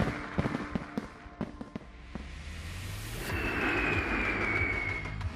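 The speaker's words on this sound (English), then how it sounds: "a spectacular fireworks display." Fireworks display at an evening celebration honoring America's heroes, with scattered sharp cracks and pops early on, then a rising whoosh and a louder, sustained rumbling barrage heard from a distance.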